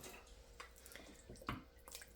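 Water being poured into a cooking pan, a faint splashing and trickling with a few brighter drips, close by in a quiet kitchen.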